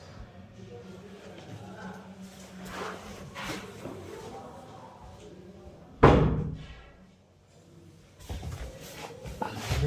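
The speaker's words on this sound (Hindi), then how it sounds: "मैं दरवाज़ा बंद करने गया था।" A house door is shut with one loud thud partway through, heard during a Hindi religious discussion about the Shiv Puran, with faint background noise and murmuring before and after.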